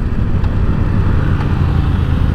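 Motorcycle engine while riding, a loud, steady droning rumble with wind noise, close and continuous throughout.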